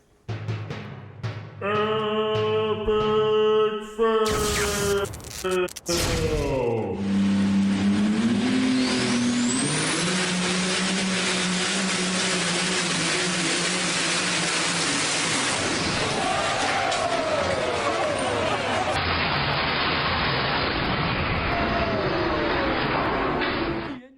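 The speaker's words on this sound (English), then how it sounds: "here's a tractor pull that almost pulls the truck driver into the afterlife." A truck engine at a tractor pull roars and revs loudly for over twenty seconds, climbing in pitch and then holding a strained drone, with some crowd noise underneath.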